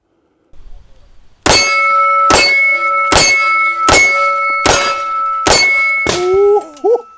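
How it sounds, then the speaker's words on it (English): Six sharp .45 ACP revolver shots from a Smith & Wesson 625, each a loud metallic clang off a steel silhouette target at 10 yards, evenly spaced about a second apart, followed by a brief ringing squeal. "That 45 ACP hitting hard on that silhouette target from 10 yards away"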